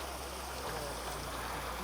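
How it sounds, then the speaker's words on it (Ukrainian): Water runs steadily from a public drinking fountain on a street in Split, Croatia, a continuous close splashing stream with no talk over it. "у Спліті на кожному кроці ви знайдете джерело питної води"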